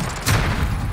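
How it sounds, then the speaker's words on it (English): Grenade blast in Call of Duty Modern Warfare, a short, loud, muffled boom with a broad rumble that swells after a brief lead-in and lingers without fading for the rest of the moment. "Oh, that grenade."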